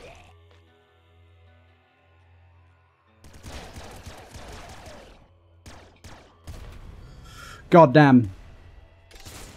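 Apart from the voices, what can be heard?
bouncer laser rifle firing in Nuclear Throne video game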